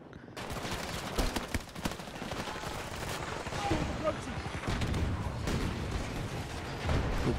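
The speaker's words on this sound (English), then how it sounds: "Oh, that's a grenade." Battlefield 2042 gameplay with a grenade blast and bursts of gunfire, dense and continuous combat noise with sharp cracks, while a player's voice is heard over it.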